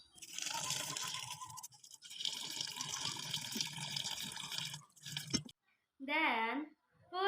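Peeled taro being rinsed in water for boiled taro, with steady splashing and running water close by for several seconds, a brief pause, then a shorter burst of sloshing.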